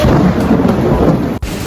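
Loud, close thunder from a storm directly overhead rumbles continuously over steady heavy rain, with a sudden brief dropout near the end.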